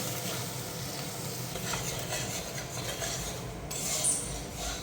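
Hilsa mustard masala sautéing over a very low gas flame in a pan, with a steady soft sizzle and scraping stir strokes, plus a brief metallic clink near the end; no talking.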